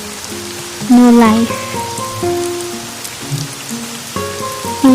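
Rain patters steadily on a surface beneath a sustained musical backing and a brief spoken phrase, the shower constant and close throughout.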